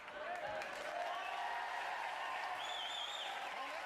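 Studio audience applause from the 1991 British TV show Noel's House Party, a steady, moderately distant wash of clapping that runs throughout under a voice.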